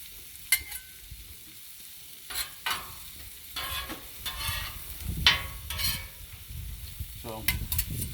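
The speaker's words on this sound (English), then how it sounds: "when you saute the onions, you don't want to burn them." Onions sauté on a Blackstone griddle, giving a soft continuous sizzle with repeated scraping strokes of a spatula across the flat-top, close and fairly quiet.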